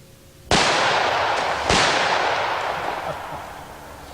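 Two loud, booming handgun shots about a second apart from a 460 Rowland pistol fired at targets, each followed by a long rolling echo that fades slowly outdoors.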